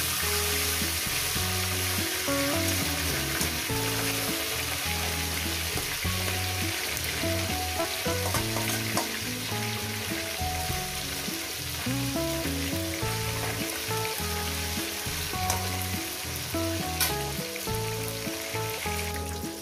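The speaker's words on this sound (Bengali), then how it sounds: "তো বন্ধুরা মাছের মাথাটা আমার ভাজা হয়ে গেছে" A fish head fries in hot oil, giving a steady, loud, close sizzle with constant crackling that runs unbroken throughout, with no talking.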